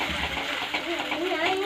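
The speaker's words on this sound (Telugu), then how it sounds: "కొద్దిగా వాటర్ వేసుకోండి." A little water is poured into a pan of gravy for fish pulao in a home kitchen, a short splashing gush heard close up alongside a voice.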